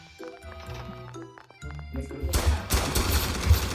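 Gunfire erupts in Roblox SCP Roleplay, a dense burst of rapid shots building from sparse game sounds into a loud, sustained volley over the final seconds.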